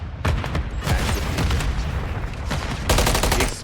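Grenade explosions and gunfire in a Call of Duty MWIII match at a LAN event: a rapid series of loud, sharp blasts and heavy booms rattle close together in dense bursts, with no speech over them.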